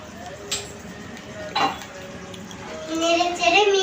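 Goat meat curry (khasir mangsho bhuna) with whole garam masala being stirred and mixed in a pot: a few soft clinks and scrapes at a steady pace, with faint voices in the background.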